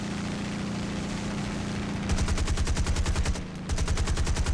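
Aircraft guns firing in War Thunder: after a steady engine drone, two long rapid-fire bursts break out, loud and close, separated by a brief pause, with no talking.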